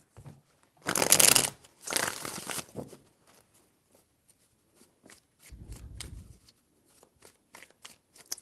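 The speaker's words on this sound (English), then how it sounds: "Three shuffles." A deck of tarot cards being shuffled by hand in bursts: two loud riffling sweeps close together, a pause with faint ticks, then a softer, lower shuffle and scattered light card flicks.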